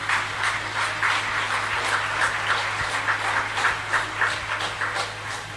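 A chess audience at the Bordeaux Grand Prix applauds grandmaster Hicham Hamdouchi: steady, moderately loud clapping from a crowd with no voices, over a low constant hum.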